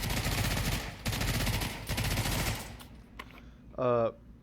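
Compact Uzi submachine gun firing in the VR shooter Pavlov, loud full-auto bursts with a short break, then a brief mechanical clack and a voice near the end.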